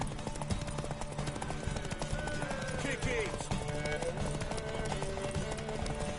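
Horse hooves clop at a gallop in The Witcher 3, sitting low and steady beneath game music and shouted voices.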